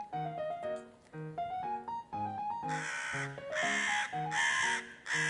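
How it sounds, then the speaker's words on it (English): A crow caws repeatedly, close and loud, with a run of shorter calls followed by several harsher, fuller caws in quick succession and no other sounds. "Crow, loud, cawing sound."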